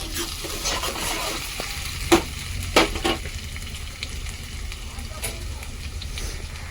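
Ginger fries in a pan for a village-style chicken fry, a low, soft sizzle broken by a few sharp stirring scrapes and clinks, with voices faintly in the background.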